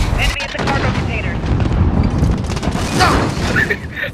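Gunshots in a shooter video game, dense repeated booming shots and impacts filling the clip, loud and continuous, with a voice talking over the gunfire.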